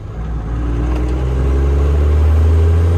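A Cummins 12-valve diesel engine in a dumpster truck idles loudly and close, a steady deep rumble with a low throb that rises slightly in intensity; no talking.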